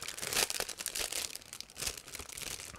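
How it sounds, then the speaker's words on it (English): A resealable plastic bag holding sprue parts from an Eduard 1/48 Zipper limited-edition model kit is opened, giving a close run of crinkling and crumpling plastic with a few sharper rustles and no talking. "we have again resealable plastic bag"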